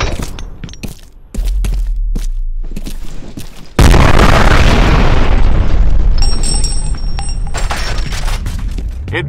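A loud grenade blast booms in the shooter game FEAR, rolling into a long, heavy rumble with debris and crackle trailing after it, preceded by sharp clicks and thuds.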